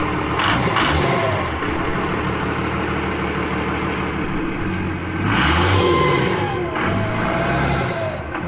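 A pickup truck engine fires up on a push-button start and keeps running with a rough, throaty idle, revving up once or twice, loud and close, with a faint voice briefly heard.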